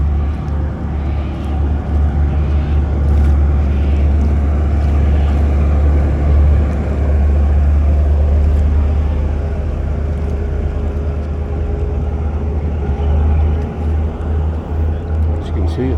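A boat's twin engines run at full ahead on calm water in the lee of Choochiemudlo Island, a loud, steady low droning rumble throughout, with wind and faint background noise.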